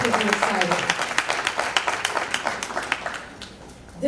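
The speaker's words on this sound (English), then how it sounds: "that is worth a round" Applause from the audience at a school board meeting, a dense patter of many hands clapping that fades out toward the end.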